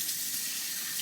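Water pours steadily through a small kitchen strainer while strawberries are rinsed, a constant bright hiss of flowing water close by.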